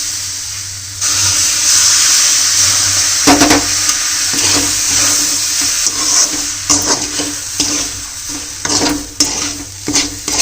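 Water splashes into a hot pot for cooking bel at breakfast, giving a loud steady sizzling hiss with scattered clinks and stirring scrapes, close and with no talking.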